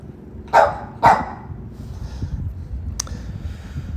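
A dog near a lakeside sailing course gives two sharp barks in quick succession, then a third fainter yelp over low outdoor background noise.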